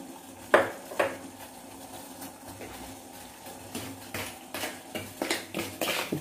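Salted, sugared dough is stirred in a pot, giving irregular scraping and clinking knocks that start sharp and then quicken into a rapid run of taps toward the end.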